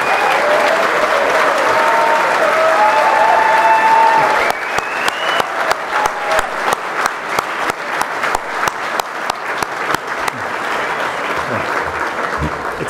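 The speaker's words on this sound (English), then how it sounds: "Please give your biggest round of applause to Ronan Dunn, Eileen Murray" A dense roar of audience applause at a charity gala in New York fills the room, then thins into distinct, rhythmic individual claps that continue to the end.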